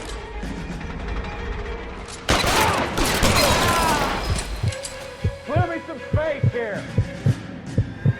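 Gunfire in L.A. Noire: a loud burst of shots crashes in midway, then a run of sharp, evenly spaced single shots rings out with ricochet-like tones, over a low game backdrop.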